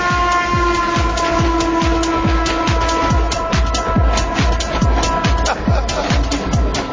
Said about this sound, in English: you can actually hear what we're saying while the train passes behind us